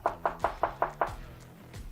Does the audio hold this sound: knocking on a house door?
yes